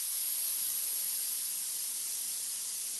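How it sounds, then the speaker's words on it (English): A Laurastar ironing system iron releases a strong, steady hiss of steam, loud and even throughout with no pauses and no talking. "But check out the steam, Barbie."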